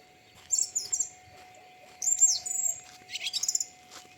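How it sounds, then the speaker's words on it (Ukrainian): Birds sing in a village in the evening, in three short bright bursts of chirps and trills against a quiet background with a faint steady hum. "Пташечки співають."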